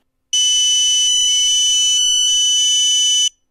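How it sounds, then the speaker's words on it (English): An iRangeX radio controller's speaker gives a shrill, piercing electronic beep at power-on. It is one loud, sustained tone of about three seconds that shifts pitch in a few steps, with no other sound around it. "When you turn on the controller, you're immediately greeted with this horrible screech."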